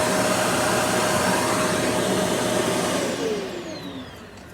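A Shark vacuum cleaner runs on its medium setting with a loud, steady whine and rushing airflow close by, then winds down and fades over the last second and a half.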